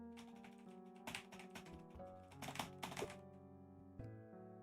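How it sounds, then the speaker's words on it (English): Computer keyboard keys pressed with a mic placed right beside it, a close cluster of clacky taps and thunks in quick bursts, layered over faint game music tones. "Let me put the mic next to my keyboard."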